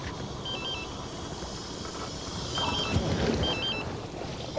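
A mobile phone on a fishing boat at sea gives a repeated electronic ringtone in short melodic bursts, heard over a steady background of wind, water and engine rumble.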